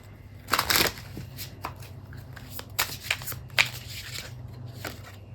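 Tarot cards from the African Goddess Rising deck are shuffled by hand, a close burst of riffling followed by scattered softer flicks and slides.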